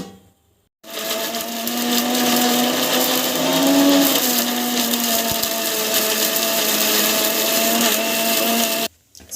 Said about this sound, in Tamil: அப்புறமா வந்து மிக்சியில் போட்டு அரைச்சிக்கலாம்